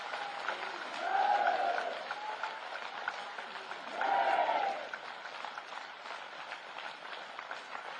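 Large rally crowd clapping to honour the army soldiers, distant, thin-sounding applause across the whole stretch with a voice rising over it twice.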